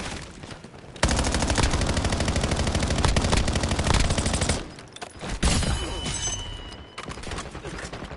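Automatic gunfire in the video game Warzone, long sustained bursts of rapid shots that cut off abruptly, then sporadic single cracks and metallic clicks, loud and close with brief gaps.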